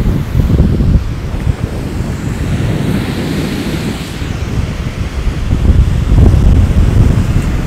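Strong seaside wind on an Azov Sea beach buffets the microphone in continuous gusts, mixed with the wash of surf and waves close by.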